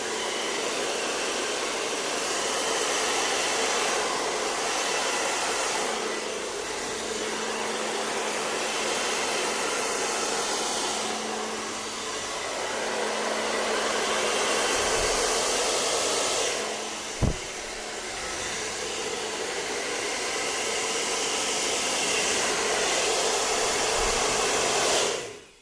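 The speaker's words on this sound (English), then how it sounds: "To touch a couple of spots with the hairdryer." A hairdryer blows hot air over poured acrylic paint, a loud, steady whooshing roar that dips and swells as it is moved, running continuously with a brief knock partway through.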